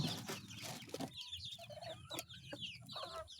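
Backyard chickens cluck and murmur in short, repeated calls, with a few higher squawks, fairly faint and close, amid a busy coop.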